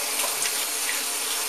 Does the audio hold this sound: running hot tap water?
yes